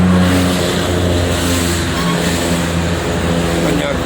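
Holiday traffic on the Jakarta–Cikampek toll road, with tour buses and private cars streaming past in a loud, continuous engine roar and tyre rumble heard from close by, while a voice talks over it throughout.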